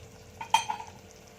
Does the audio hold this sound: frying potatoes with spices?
yes